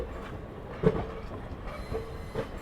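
A WAP-5 electric locomotive stands at a station platform after arriving with a train, giving a low, continuous rumble with a few sharp metallic clanks over it.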